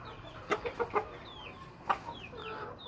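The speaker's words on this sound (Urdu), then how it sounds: "یہ مرغا آپ دیکھیں ماشاءاللہ ہمارا" A rooster clucking nearby in a few short bursts, a quick cluster of clucks followed by a lone louder cluck, with faint bird chirps in the background.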